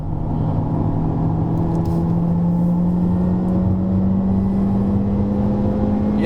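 A Honda Civic RS engine hums loudly and steadily, its pitch slowly rising as it accelerates, with no voices over the continuous drone.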